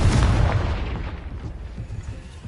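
A Confringo fire spell blasting in Hogwarts Legacy, one loud booming explosion at the start that rumbles and decays over a couple of seconds.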